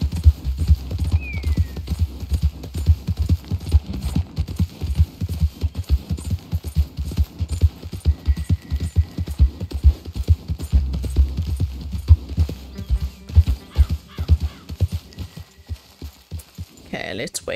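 Steady horse hoofbeats clip-clop in a fast gallop rhythm under a low hum in Red Dead Redemption 2, continuing throughout with no pauses.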